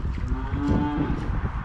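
Dry cows in a barn during winter feeding give a single drawn-out moo, close and fairly loud, over a low rumbling background with no talk.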